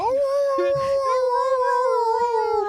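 A single sustained howl, close and loud, holds a steady tone for nearly three seconds with a slight waver. It could be a husky or a person imitating one, and some faint background chatter sits underneath.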